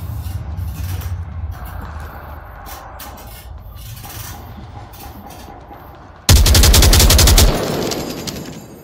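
Bursts of gunfire in the VR shooter Onward, a rattling sustained volley at the start, quieter scraping and movement in between, then a very loud close-up automatic burst near the end; no speech.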